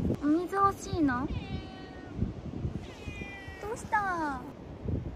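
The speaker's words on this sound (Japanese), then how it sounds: "猫ちゃんいる。" A cat meows several times up close, drawn-out and plaintive, at a hilltop lookout on Okinoerabu Island, Japan, with someone briefly speaking between the cries.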